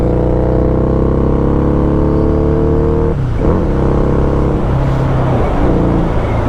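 A fuel-injected motorcycle engine rumbles loud and close with a deep throaty idle, then blips its revs twice in quick succession.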